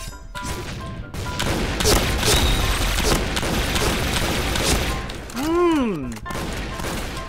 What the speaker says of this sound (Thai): ยิงไปหลายนัดทำไมไม่ตาย